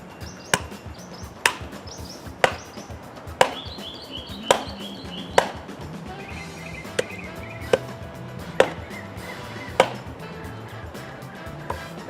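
A Pathfinder Scorpion knife is hammered into a thick piece of wood outdoors, producing about ten sharp, evenly spaced knocks. Birds chirp faintly in the background.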